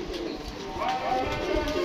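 Captured pigeons coo close by in a steady, soft murmur on a rooftop, the calls rising and falling without pause over the whole stretch.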